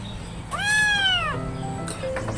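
A cat gives one long, clear meow that rises and then falls, close to the microphone, followed by a fainter short call, over a light background hiss with no talking.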